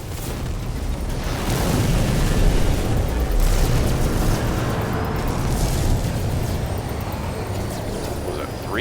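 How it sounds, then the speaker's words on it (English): A heavy missile explodes in a space combat game, setting off a loud, deep rumbling blast that swells and then rolls on with a sustained, noisy roar for several seconds. "Heavy missile inbound."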